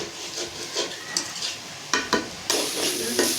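Cabbage, potato and dhenki greens sizzle in a pan over a wood-fired stove while a spatula scrapes and stirs them in a few distinct strokes, close and fairly loud, with the frying growing brighter toward the end.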